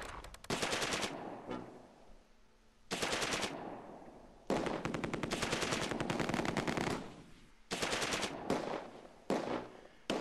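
Gunfire in the World War II game Close Combat II, Polish airborne drop at Driel: loud bursts of machine-gun and rifle fire in several long volleys, separated by brief quiet gaps, with no talking.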